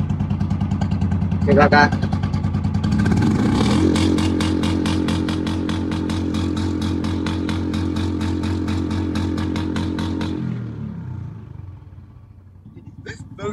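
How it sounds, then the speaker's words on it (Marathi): A Royal Enfield Bullet motorcycle revved hard at full throttle, its exhaust building from a thumping idle into a loud, sustained, rapid pulsing roar before dropping back, with someone speaking briefly over it. "आता आपण गाडीची पूर्ण फुल रेस देऊन ह्याचा एक्झॉस्ट चेक करू आपण कसा आवाज येतोय"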